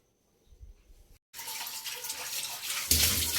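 Potatoes washed under running tap water, a few soft handling knocks and then a steady close gush of water that grows louder toward the end.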